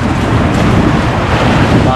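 Rough sea off the coast at Tres Reyes in poor weather, a loud, continuous roar of wind buffeting the microphone over churning waves, close and unbroken for the whole moment.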